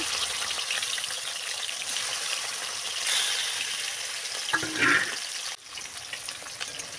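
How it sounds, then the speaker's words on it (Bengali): Steady, fairly loud sizzling of aar fish pieces, rubbed with salt and turmeric, frying in hot mustard oil: a continuous crackling hiss with a brief clatter partway through. "কড়াইতে সর্ষের তেল দিয়ে ভালো করে গরম করে একে একে লবণ হলুদ মাখা মাছগুলো ভেজে রাখ"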